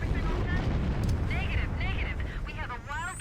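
Grenades thrown on purpose go off in Halo, producing dense, rumbling blasts through the first half. Chirpy, warbling game effects rise over the noise toward the end, with no voice heard.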